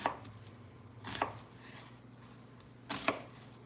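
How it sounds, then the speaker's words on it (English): A knife cuts food into thin slices on a cutting board, making three distinct thuds about a second apart, close and fairly quiet. "then we're going to slice this up and I'm gonna do nice thin slices"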